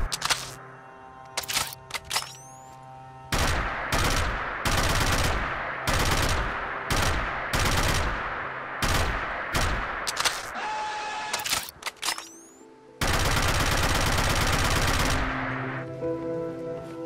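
Repeated bursts of heavy rifle fire from the AKE Volk in Fallout 4, loud and close, in rapid volleys separated by short gaps, ending in one long sustained burst.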